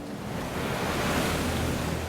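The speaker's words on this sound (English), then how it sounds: "I just remember those waves, the sound of those waves." Dense, continuous roar of Atlantic Ocean waves heard from a life raft at sea, a steady wash of surf and wind with no distinct breaks and no voices.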